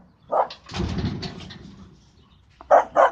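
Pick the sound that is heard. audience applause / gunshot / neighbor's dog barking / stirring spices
neighbor's dog barking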